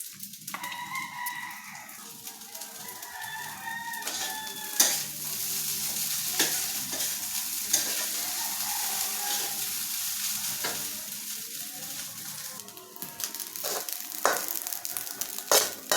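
Sinangag, garlic fried rice, sizzles steadily in a hot pan while a utensil scrapes and stirs it in repeated strokes, close up, with no talking.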